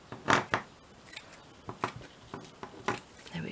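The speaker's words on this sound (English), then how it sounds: "Let me just cut a little bit off." Scissors snipping paper for a tall, slim handmade journal, a few quick close cuts with brief pauses and soft handling rustles between them.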